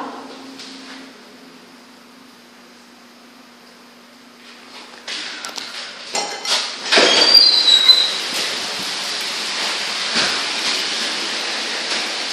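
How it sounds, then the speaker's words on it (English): Heavy thunderstorm rain pouring down hard, starting faint and swelling after a few seconds into a loud, dense, continuous rush of rainfall that stays steady to the end. "It's raining hard."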